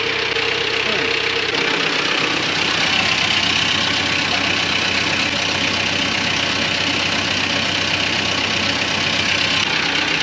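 A diesel mini truck with a left-hand drive and no clutch, its engine idling roughly and continuously with a knocking clatter close by, while someone speaks over it.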